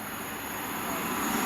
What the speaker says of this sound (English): doubled up pair of the Voyagers from London Euston to Chester